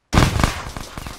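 A grenade explosion in the video game Arma 3, one sudden loud close blast that starts sharply and rolls off into a rumbling, crackling decay over about a second.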